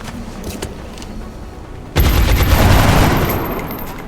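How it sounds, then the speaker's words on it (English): Soldiers fire at an enemy in the video game XCOM Enemy Within: after a quiet stretch, a loud sudden burst of gunfire erupts and continues with heavy rumbling shots that slowly fade. "might as well take some shots at that guy"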